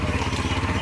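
A motorcycle engine runs close by with a loud, steady, rhythmic low pulsing throughout the short moment, alone without talk.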